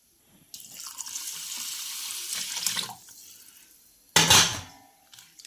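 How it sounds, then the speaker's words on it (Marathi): Rice being rinsed under a running kitchen tap: a steady hiss of water for a few seconds, then a louder burst of splashing, close and without talk. "मी आधीच तांदूळ स्वच्छ धुवून घेणार आहे"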